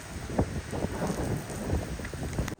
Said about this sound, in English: We're hearing rain on the roof of the Paseo La Galleria.